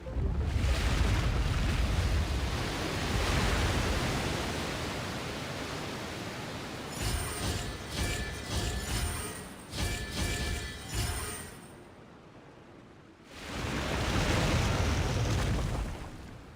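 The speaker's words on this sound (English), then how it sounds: "The water's flowed into the groove" Water rushing into a stone groove in the video game Genshin Impact, a loud, broad, continuous wash that thins and briefly drops away before surging back strongly.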